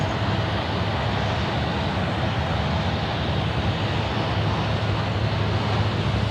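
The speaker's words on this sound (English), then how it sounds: "Oh wow, China Airlines coming across now." A China Airlines airliner passes at Sydney airport, a broad, loud, steady roar of jet engines that fills the whole stretch without letup.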